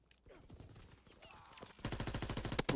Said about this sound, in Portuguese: Lá o cara tentando me dar tiro,